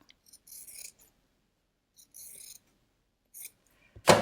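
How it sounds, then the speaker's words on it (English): Scissors snip loose bookbinding thread ends in a quiet room, three short crisp cutting bursts spaced about a second and a half apart, followed by a louder, sharper clack at the end. "I might just trim these little bits off."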